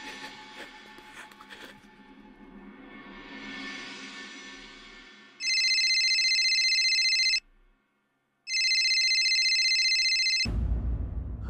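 A telephone rings indoors in two long, loud electronic bursts separated by a short gap, preceded by soft room noise and followed by a low thump.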